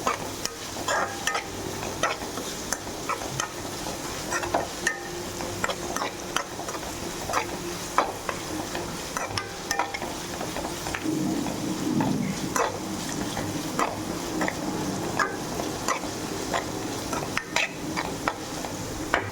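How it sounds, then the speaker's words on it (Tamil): Ingredients sautéing in oil in a pan for egg rice, a steady close sizzle with frequent clicks and scrapes of a stirring spoon running throughout, no talking. "இதுக்கு எல்லாமே நல்லா வதக்கிடுச்சு பாருங்க. இப்போ எண்ணெய் தான் அதிகமாக ஊற்றணும்."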